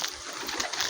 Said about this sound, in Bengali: আমরা দুটো নতুন নতুন পায়রা নিয়ে এসেছি